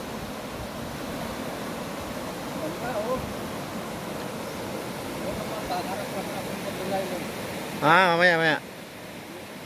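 Steady broadband rush of the river at Sumogot flowing throughout, with a person talking over the water and a brief burst of another voice near the end.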